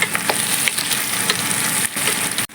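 Broccoli and green peas rice is stirred gently in a hot pan, a steady close sizzle with soft scraping strokes of a spoon, no voices.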